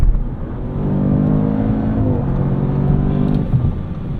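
A 2024 Audi RS7 Performance with a twin-turbo V8 kicks down and accelerates during an evening commute, a loud, deep engine roar swelling and holding with a slight shift dip midway, heard from inside the car without talk.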